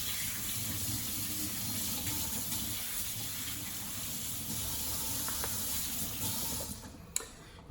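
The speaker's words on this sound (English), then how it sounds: "I'm gonna go ahead and just rinse it off really well in cold water" Cold tap water runs steadily over a gutted rattlesnake being rinsed in a sink, a constant close splashing hiss with small bumps near the end.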